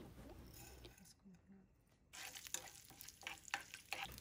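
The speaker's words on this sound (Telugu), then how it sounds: "త్రీ స్పూన్స్ ఆయిల్ వేసుకోవాలి హాఫ్ స్పూన్ ఆవాలు హాఫ్ స్పూన్ జీలకర్ర వన్ స్పూన్ మినపప్పు వేసుకొని వేయించుకోవాలి" Mustard seeds, cumin and urad dal fry in hot oil for a ginger chutney tempering, giving a fairly quiet, steady sizzle with crackles and faint stirring scrapes. A brief lull falls partway through, then a brighter, denser burst of popping follows.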